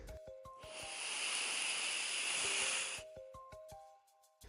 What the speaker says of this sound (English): This is a snake.